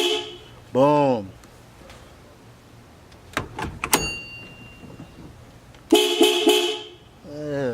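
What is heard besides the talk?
car horn of a Honda Integra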